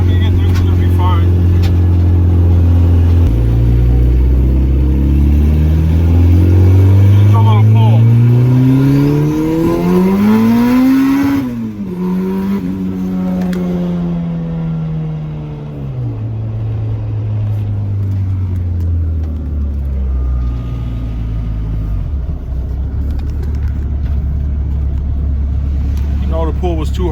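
A turbocharged car engine of around 300 horsepower pulls hard from inside the cabin on its first drive, revving up through rising sweeps, easing off briefly, then climbing again, loud and close.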